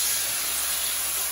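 A piece of lemon chicken breast sizzles in hot frying oil, a loud, dense, continuous hiss that holds steady and close throughout.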